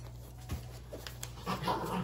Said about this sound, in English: Sorry, my dog is going a little crazy.